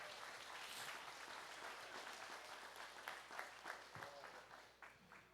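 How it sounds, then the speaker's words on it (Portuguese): A church congregation applauds after a prayer, a dense wash of many hands clapping at a steady, moderately loud level that swells slightly and stays continuous throughout. "Você pode aplaudir por essa palavra?"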